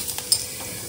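Cumin seeds dropped into hot oil and ghee for a coriander paneer gravy give a short, steady, loud sizzling hiss, close up, with a faint stir and no voices.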